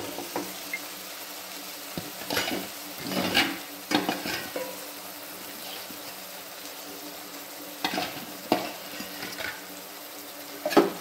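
Soybean pulav stirred in a pan, a low steady sizzle broken by intermittent scraping and clattering bursts of the spoon against the pan, close by and moderately loud, with no talking.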